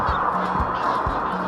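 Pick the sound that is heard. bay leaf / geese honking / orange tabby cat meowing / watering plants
geese honking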